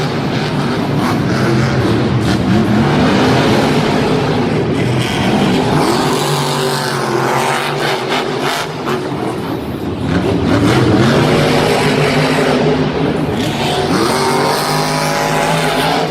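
Monster trucks race at a Monster Jam event in Lyon, France, including Max D and Megalodon. Loud, continuous engine roar fills the clip, with revving pitch changes and crowd noise in the arena.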